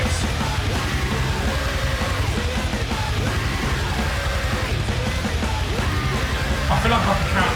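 Loud, dense metal music fills the whole stretch, with harsh screamed vocals and low guttural growls over heavy distorted guitars and pounding drums.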